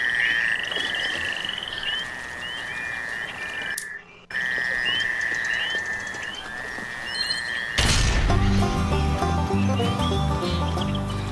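Frogs croak in the Duck Dynasty PS4 video game, a repeated rhythmic chirping croak that is loud and close, briefly cut by a gap, then joined by louder game music near the end.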